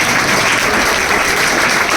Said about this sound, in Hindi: उसके लिए भी ताली हो जाए